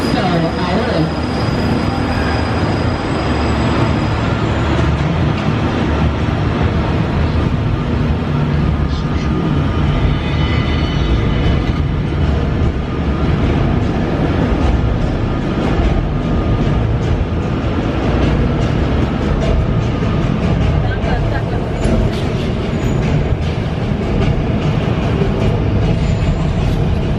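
The Universal Studios Hollywood tram carries riders past the park with a steady, loud rumble and rolling mechanical noise for the whole stretch, while people talk under it and an announcer's voice breaks through now and then.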